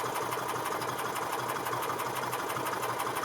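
A gas engine on a 1997 EZGO TXT golf cart cranks steadily at wide open throttle during a compression test, giving an even, rapid pulsing churn that holds at a constant level with no talk.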